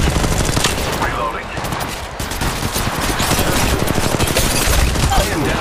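Rapid shotgun and automatic gunfire in the Apex Legends Mobile game, loud dense bursts of shots crackling almost without pause, with a player's voice talking over the action.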